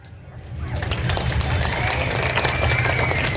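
An audience at a political speech in Bihar starts clapping, building quickly from quiet into steady, continuous applause with crowd noise that holds loud to the end.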